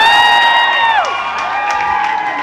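Studio audience of the German TV game show Schlag den Raab cheering and whooping, a loud burst of crowd noise with high shouted voices that eases slightly after the first second.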